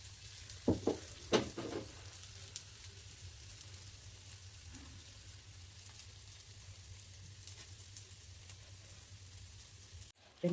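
Brinjal (vankaya) slices frying in oil on a tawa, a faint steady sizzle running throughout, with a few louder crackles and spatula touches near the start.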